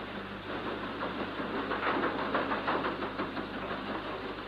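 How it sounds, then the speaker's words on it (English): Big ship engines throb steadily as tugs ease a heavy-laden vessel from her berth into a ship canal channel: a dense, continuous mechanical rumble with a rhythmic pulsing texture, constant in level, no voices. "Powerful engines throb into life, and the heavy-laden vessel is eased from her berth into the main channel."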